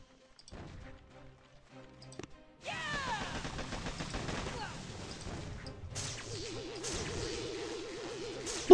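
Gunfire and explosions from machine guns in the Boom Beach video game, with sharp impacts and crashes, a busy stretch of rapid shots, and a warbling tone near the end, set against game sound effects.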